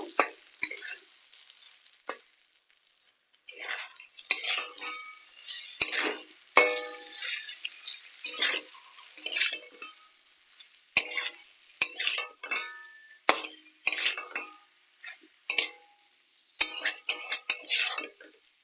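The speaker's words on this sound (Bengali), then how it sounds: "এখন নাড়াচাড়া করে নেব" Utensil stirring egg and eggplant frying in a pan, with repeated scraping and clinking strokes in irregular bursts separated by short pauses, close and moderately loud over a faint sizzle.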